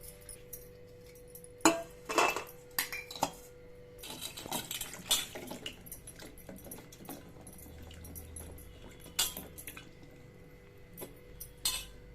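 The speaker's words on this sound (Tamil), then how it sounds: "அதுங்காட்டி நம்ம பேரிச்சம்பழத்தை நல்லா க்ளீன் பண்ணி கழுவிக்கலாம்" Dates being washed in water in a home kitchen, with scattered clinks of a bowl or utensils, splashing and light rustling. The sounds are quiet, close and intermittent.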